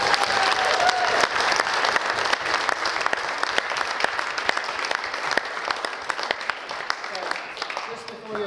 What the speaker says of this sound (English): Can you give us a big round of applause?